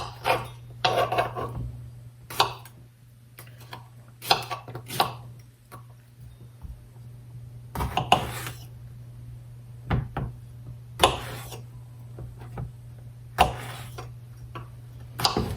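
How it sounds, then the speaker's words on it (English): Fresh squash chopped with a knife on a cutting board: a series of separate, sharp thunks, some in quick pairs, close and clear over a low steady hum, with quiet gaps between the cuts. "I'm going to cut the squash the same way"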